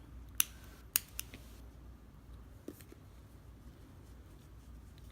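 Scissors trim short pieces of yarn on a crochet ghost appliqué with a few crisp, close snips near the start, then a fainter click, in an otherwise quiet room.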